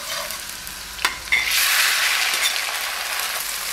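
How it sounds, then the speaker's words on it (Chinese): Rice noodles stir-frying in oil with chives, a near, loud hiss that swells after a couple of sharp utensil knocks and then holds as a steady sizzle. "把粿条炒一下，葱花夹末。"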